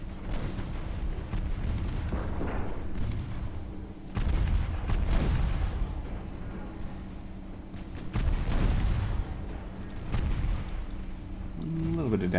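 Torpedo hits and gunfire strike ships in a naval battle video game, producing repeated heavy booming impacts and rumbling blasts at a moderate level, with intermittent talking over the action.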